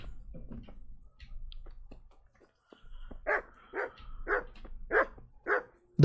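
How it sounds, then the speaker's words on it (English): A dog barking in Kingdom Come: Deliverance, a run of five or six fairly close, evenly spaced barks after a quiet stretch with faint footsteps and movement sounds. "Doggy."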